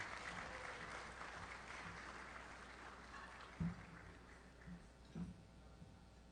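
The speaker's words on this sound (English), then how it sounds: "Once again, a warm round of applause for our two presidents as they return to their seats." Soft, distant applause from an audience at a business association's general membership meeting, a steady wash of clapping that continues throughout, with a couple of duller thumps toward the end.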